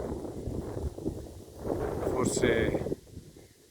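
Wind buffets the microphone outdoors beside a small basketball court in Stalis, Gemona del Friuli, on a bright day. It makes a steady low rumble under someone speaking Italian, and gusts swell toward the end.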